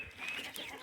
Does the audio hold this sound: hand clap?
no